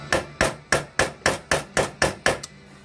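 A seal on a Yamaha TTR250 bigbore 325cc engine is tapped into place with a hammer on a socket, giving eight sharp evenly spaced metallic strikes close up, followed by one lighter tap.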